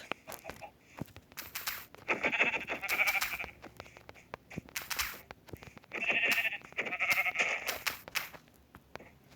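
Sheep in the video game Minecraft bleating in two pairs of nasal baa calls, close and clear, over soft game footsteps and clicking.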